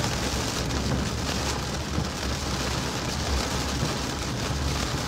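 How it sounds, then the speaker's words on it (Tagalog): Heavy rain pours down at a self-service gas station in a dense, constant hiss, steady and loud throughout with no voices. "Malakas ang ulan dito."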